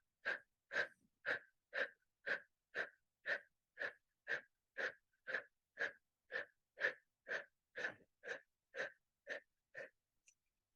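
Rhythmic, forceful exhalations through the nose in kriya breathing, about twenty evenly spaced sharp puffs at roughly two per second, close and clear with no talking.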